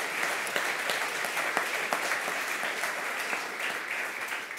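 Steady, moderately distant applause from an audience at an innovation awards ceremony, dense clapping with a few sharper claps standing out, continuous and easing slightly at the end.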